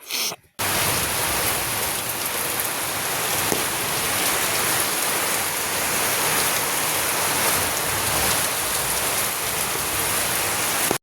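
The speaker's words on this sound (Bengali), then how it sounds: "বৃষ্টির কথা বলতে বলতে বৃষ্টি দিয়ে শুরু।" Heavy monsoon rain falls steadily in a morning downpour, a dense, even roar of drops on surfaces that starts abruptly after a brief quiet moment and continues without break, close and loud.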